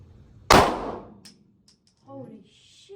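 One sharp gunshot cracks out at an outdoor shooting range, loud and close with a quick echoing decay, followed by excited voices.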